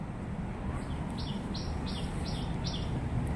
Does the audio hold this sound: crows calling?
yes